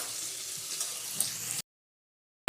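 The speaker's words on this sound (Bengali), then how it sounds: "কড়াইয়ে দিয়ে আলুটা ভেজে নিচ্ছি নুন হলুদ দিয়ে" Soft, steady sizzling of potatoes frying in oil with salt and turmeric in a wok for a moment, then abrupt silence.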